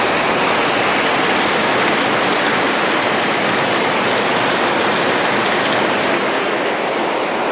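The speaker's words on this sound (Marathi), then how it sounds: "आत्तासुद्धा पाऊस पडतो आहे बघू शकता तुम्ही पाऊस" Heavy rain pours steadily and loudly, a dense unbroken patter with no voices.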